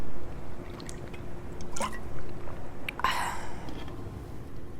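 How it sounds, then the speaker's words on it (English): Someone drinks the last of a bottle of water outdoors in a city, with a few close swallows and liquid sloshing against a soft background hum. "I'm just going to drink the rest of this water."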